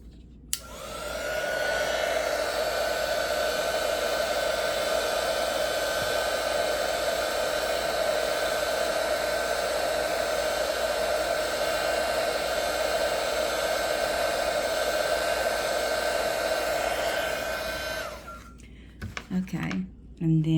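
A hair dryer blows steadily and close for about seventeen seconds to dry ink on a painting of a Barberton daisy, then switches off, leaving a few handling noises.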